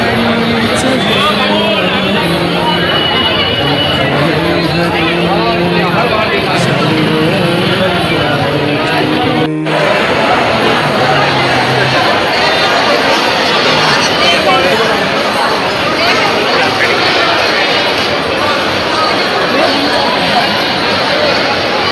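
A large crowd at Shirdi on New Year, a dense, steady hubbub of many voices mixed with traffic noise, loud and continuous throughout, with a brief dropout partway before the babble resumes.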